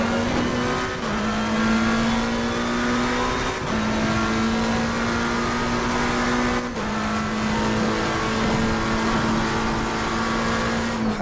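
A McLaren race car engine in Assetto Corsa Competizione drones at a steady high pitch, with brief dips at two gear changes before the engine climbs again, loud and continuous with no talking.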